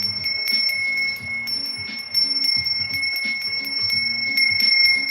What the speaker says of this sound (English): I'm going to ring the bell, okay? To cleanse the energy.